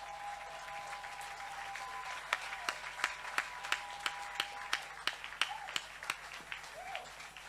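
A church congregation claps in a steady rhythmic beat, loud and close, with a sustained hum and faint singing voices beneath the clapping.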